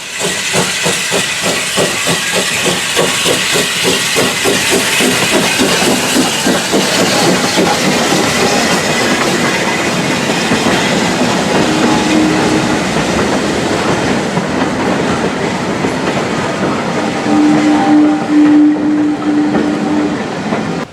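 A steam locomotive hauling a freight train chugs past on the Foxfield Railway with a steady beat of exhaust puffs and hissing steam, wagons clattering along the rails, loud and close throughout.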